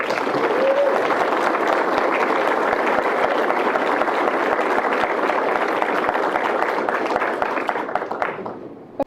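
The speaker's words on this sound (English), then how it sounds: "Join me in a round of applause for Christina Lee." A conference audience applauds a speaker in sustained, dense clapping that holds steady for several seconds before tapering off near the end.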